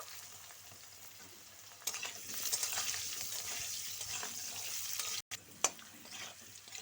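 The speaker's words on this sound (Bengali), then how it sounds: "আলুগুলো দিয়ে একটু লালচে করে ভেজে নেব।" Potato pieces sizzle steadily in hot oil over tempered spices for a Bengali fish-head and cauliflower dish, the hiss growing louder after a moment with a few stirring scrapes and a brief dropout near the end.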